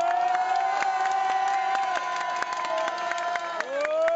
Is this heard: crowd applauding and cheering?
yes